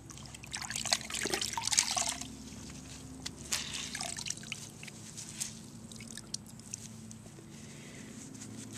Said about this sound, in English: So let's get started, and I'm going to wring this out.